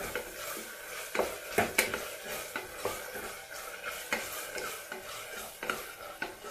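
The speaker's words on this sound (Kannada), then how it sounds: "ಇವಾಗ ಇದಕ್ಕೆ ಮೆಣಸಿನ್ಕಾಯಿ ಹಾಕೊಳ್ತಾ ಇದ್ದೀನಿ. ಮೆಣಸಿನ್ಕಾಯಿ ಹಾಕೊಂಡು ಒಂದು 2 ನಿಮಿಷ ಫ್ರೈ ಮಾಡಬೇಕು." Onions and green chillies fry in hot oil for a basmati rice pulao, a soft steady sizzle broken by sharp scrapes and clinks of a spoon stirring against the pan.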